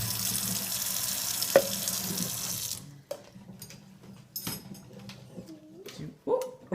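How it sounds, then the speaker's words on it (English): Kitchen tap water runs steadily for about three seconds, rinsing chocolate residue out of dishes before they go into the dishwasher, then shuts off, leaving scattered clinks and faint movement at the sink. "So we rinse out the goopy goops."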